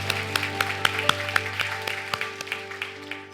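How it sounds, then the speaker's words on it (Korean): Scattered clapping from a church congregation at an Easter Sunday service, heard as distinct claps over a sustained organ or keyboard chord. "우리 하나님께 감사의 박수를 드리겠습니다."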